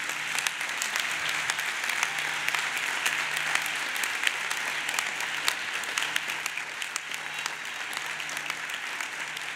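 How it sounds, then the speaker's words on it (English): A convocation audience claps steadily and continuously throughout, a dense, even wash of applause from a large crowd in a hall, with no cheering standing out. "you give a big round of applause to all the people who've helped you all along the"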